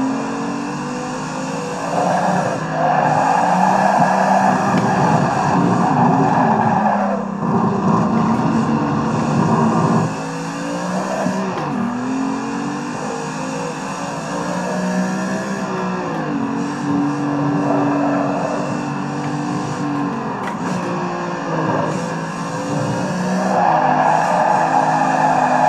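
A car drifts in a driving simulator game, a loud sustained engine drone with rising and falling pitch as revs change, alongside tyre squeal, continuous throughout with no talking.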